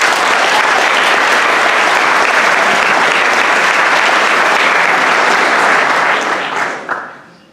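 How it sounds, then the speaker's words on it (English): Sustained, dense audience applause fills a school fall sports awards ceremony as a Division I JV championship team is honored, steady and loud throughout before tapering off near the end. "they deserve a big round of applause for that"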